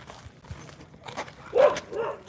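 A dog barks a few times outdoors while people and puppies are out walking. The barks are mid-distance and moderately loud against faint background noise.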